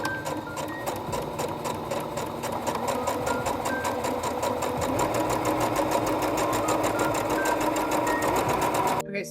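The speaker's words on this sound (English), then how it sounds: "This one looks like a rolled hem foot, so I'm going to use it as a rolled hem foot." Sewing machine running steadily while stitching a rolled hem with a rolled hem presser foot, a fast, even mechanical whir and rapid needle clatter that continues without pause, close and fairly loud throughout.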